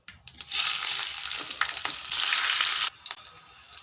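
Mustard seeds and urad dal spluttering in about 25 ml of hot oil in a pan, a loud, dense crackling sizzle that starts abruptly, holds steady for nearly three seconds, then cuts off into faint scattered pops.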